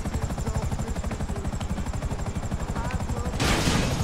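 Helicopter rotor chop and bursts of rapid gunfire in the video game GTA Online, a steady loud pulsing beat throughout with a harsher burst of noise near the end.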